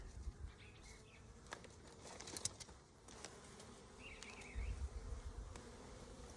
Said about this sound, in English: I got a bunch of bees in here